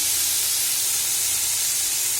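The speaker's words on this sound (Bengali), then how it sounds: "তো তার জন্য দেখো ওকে অল্প তেলে একটু ভালো করে ভেজে দিচ্ছি" Cauliflower fries in a little oil in a home kitchen, giving a steady, even hiss and sizzle that runs unbroken from start to finish.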